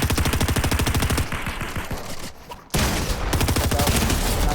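Rapid SMG gunfire from a competitive online shooter scrim, dense automatic bursts that run steadily, break off for a moment, then resume with a sharp restart and continue loud to the end.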